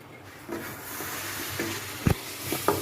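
Soft sizzling of semolina roasting in a pan with mango paste, for langcha sweets, with a few scraping clicks of a spoon stirring it, close and fairly quiet.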